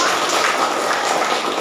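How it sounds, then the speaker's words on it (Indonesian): Classroom applause from a group of students, a dense, fast patter of clapping hands, close and fairly loud, continuous for a moment with no talk. "Tepuk tangan dulu."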